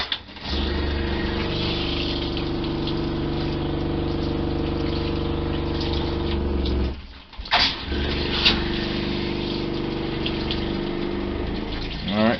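An RV water pump draws antifreeze through the plumbing during winterizing, a loud steady droning whir that cuts out briefly and sputters as the jug runs dry, then resumes.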